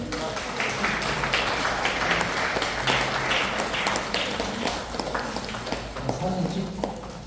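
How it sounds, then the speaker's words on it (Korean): An audience at an inauguration ceremony for Lions Clubs representatives in a conference hall claps in a steady, sustained round of applause, fairly faint, with a voice talking over it. "네, 뜨거운 박수 한번 보내주십시오."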